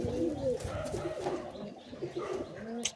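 A high-flying pigeon coos nearby in soft repeated throaty phrases, fairly faint, with some handling noise and a sharp click near the end.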